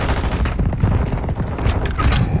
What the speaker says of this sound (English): Watch the mortar strike.